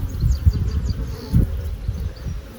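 Honey bees hum in a low, steady drone around an open hive being inspected after a failed split, close and continuous with a few louder swells as insects pass near.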